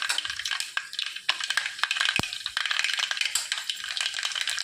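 Mustard seeds splutter and pop in three spoons of hot oil in a pan, a dense, continuous crackling sizzle with sharp pops scattered throughout.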